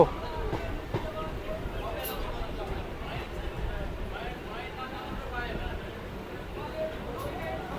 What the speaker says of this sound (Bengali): আজিমগঞ্জের প্রথম কোনো প্যাসেঞ্জার ট্রেন মুর্শিদাবাদে আসলো